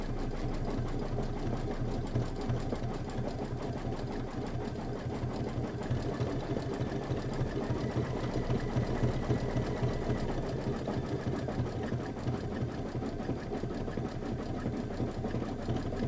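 A sewing machine stitches the outer fringe of a flower center on a Kimberbell table topper, running in a fast, steady, continuous chatter throughout without pause.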